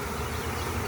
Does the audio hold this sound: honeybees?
yes